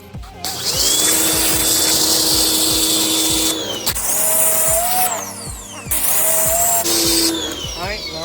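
Pressure washer blasting water at a dirt bike, a loud steady hiss that cuts off and restarts in long bursts while the pump engine drones and chugs rhythmically underneath.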